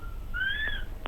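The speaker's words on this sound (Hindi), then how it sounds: "ये सीटियाँ आ रही हैं, ये आपको परेशान ना करें लिखने में" A thin whistling tone rising and gliding briefly in a room, heard over steady low background hum, with no talk during the sound.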